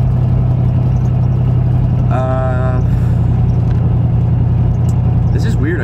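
Coppertop, a pro-touring wagon, drives along with a steady, loud engine drone heard from inside the car, while someone talks over it and a brief tonal chime sounds near the middle.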